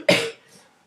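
A single sharp cough, close and fairly loud, that dies away quickly into quiet.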